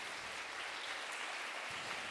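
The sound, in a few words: church congregation applause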